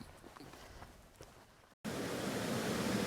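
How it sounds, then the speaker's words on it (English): A small waterfall with modest flow on an island, heard after a cut as a steady broadband rush of falling water close by, following a quieter outdoor stretch. "we've made it to the falls, the waterfall. It's not gushing."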